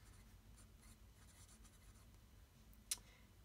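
Fine steel nib of a Benu Parrot fountain pen with Pilot Iroshizuku ink scratching softly across paper, faint close strokes in a quiet room, ending with one sharper tap or lift near the end.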